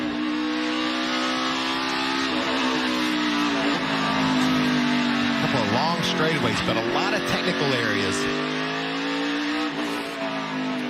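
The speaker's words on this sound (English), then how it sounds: "Just listen to how he uses the gas." A NASCAR Xfinity race car engine revs and drops repeatedly as the driver works the throttle around the Circuit of the Americas road course, the engine sustained and prominent beneath a commentator's voice.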